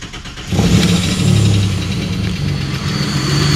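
A cheap used car bought off a marketplace listing fires up and runs with its J3 component unplugged. The engine rises sharply to a loud, close, steady idle with a slight rev and a rough rumble throughout.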